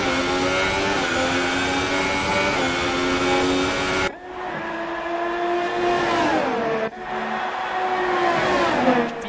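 Formula 1 cars in the F1 2018 video game, loud high-pitched engine whine sweeping up and down as cars pass, with abrupt cuts between continuous racing engine passages.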